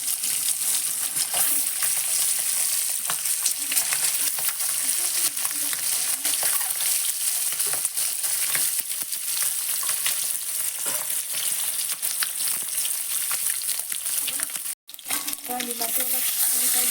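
Food fries steadily in hot oil, a dense continuous sizzle close up with occasional stirring clinks, briefly cut off near the end before resuming.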